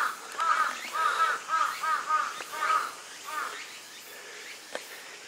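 A crow caws repeatedly in quick bursts, fairly close and clear, at Asuka Niimasu shrine in Japan, then falls quiet apart from a faint click near the end.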